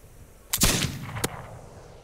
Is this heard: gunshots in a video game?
yes